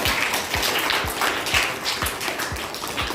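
Fourth-grade students in a music class clap together in a steady rhythm, with each clap landing roughly twice a second and a dull thump under every beat, loud and close.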